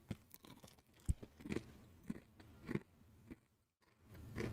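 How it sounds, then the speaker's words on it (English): Chips crunch close to a sensitive microphone, soft irregular bites and chewing with brief crisp cracks over a few seconds, faint and intimate. "I'm eating chips."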